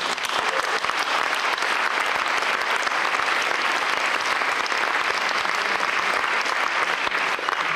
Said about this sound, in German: Der Applaus geht nicht an mich